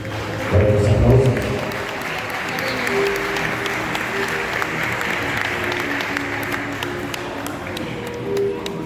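An audience at a Council of Elders ceremony in Caxhuacan, Puebla, applauds an appointment with sustained, even clapping for several seconds, and a brief tonal sound rises near the start.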